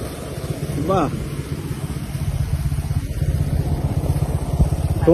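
A motorcycle engine runs nearby with a steady, rapid low pulsing that grows slightly louder toward the end, while voices briefly come through over it.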